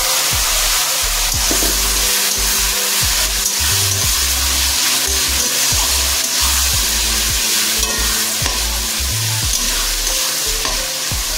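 Chopped onions frying in a pan for chicken curry until reddish brown: a loud, continuous sizzle with repeated scraping and stirring strokes against the metal, close and steady, with no talking.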